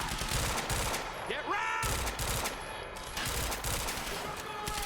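Sustained gunfire in Quantum Break rattles in dense, rapid bursts under game ambience, with a brief pause before the shooting resumes.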